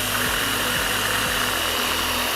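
Power drill spinning at about 3000 RPM pressed against a wristwatch, a loud steady motor whine with a low buzzing vibration and repeated dips in pitch, close and continuous with no talk.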